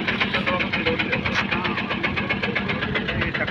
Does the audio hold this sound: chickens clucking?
no